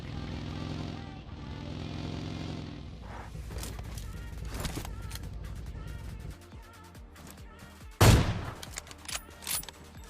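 AWM sniper rifle shots in PUBG Mobile Lite, with one sharp, loud crack standing out near the end against game sounds and a vehicle engine hum.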